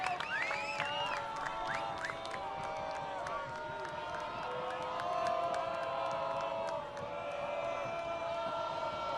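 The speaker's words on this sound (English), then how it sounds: "You can hear ball 4 from the crowd." Baseball crowd at a professional game calling out on a full-count pitch, a steady roar of many voices with whistles and shouts in the stands, holding at a constant level throughout.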